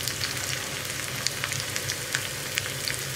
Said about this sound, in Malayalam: അപ്പോൾ ഉള്ളി ചേർത്ത് കൊടുക്കാം.